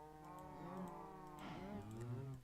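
Cows in the Minecraft video game give a long, drawn-out moo with a sliding pitch, then a second overlapping moo, clear and steady over a faint background hum.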